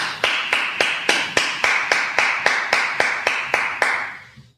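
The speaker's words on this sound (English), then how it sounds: "And let's clap it up." Rhythmic clapping from a religious class audience, about a dozen sharp, evenly paced claps in unison, close and clear, fading out at the end.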